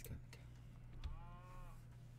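Cosmic Cow, a character in a video game, gives a short, faint, wavering moo under low background hum, with a brief voice heard nearby.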